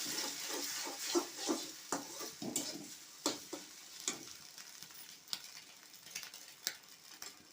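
Scrambled egg bhujia fries in a pan, with a soft sizzle under repeated sharp taps and scrapes of a spatula stirring at an uneven rhythm, close and fairly quiet, with no speech.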